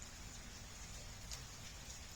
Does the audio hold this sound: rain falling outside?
yes